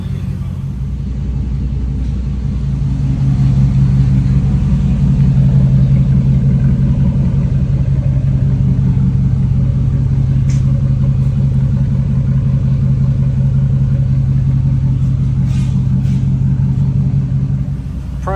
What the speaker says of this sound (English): we've got to let the truck go all the way through its cycle again, get warm